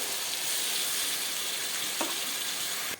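Water steadily pouring into a hot pan of peas and potatoes with a broad, continuous hiss and sizzle, ending with a brief clink near the close.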